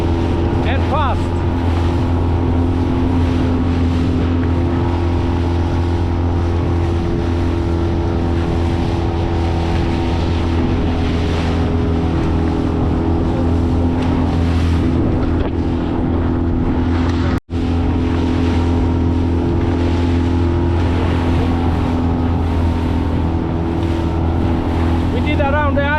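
Steady outboard drone of a Honwave T40 inflatable boat motoring across the sea near a reef, with wind buffeting the microphone and someone talking briefly over the engine.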